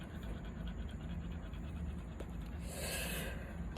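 A dog pants heavily and rapidly in a school bus parking lot, steady close breathing against outdoor background noise.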